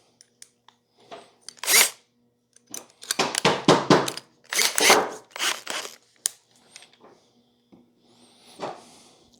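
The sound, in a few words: drill bit drilling into wood for a screw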